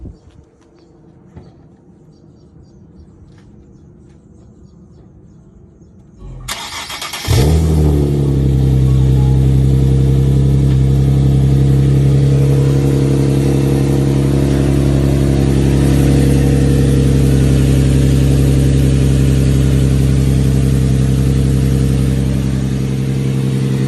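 A Nissan 370Z with a newly installed Mishimoto oil cooler starts up after a quiet stretch, the engine catching with a sharp burst and then holding a loud, steady rev around 2000 rpm for the rest of the clip.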